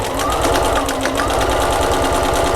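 A sewing machine runs steadily while stitching a French seam on a fabric gift bag, a loud, close, continuous mechanical whir with a fast regular needle chatter and no voices.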